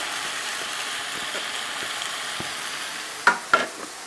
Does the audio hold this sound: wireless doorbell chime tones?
no